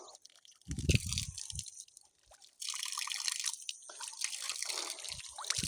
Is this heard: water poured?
yes